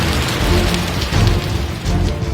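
Rain pours onto flooded streets in Gurugram, a dense continuous hiss of water hitting wet surfaces, loud and close with low rumbling beneath and no voices.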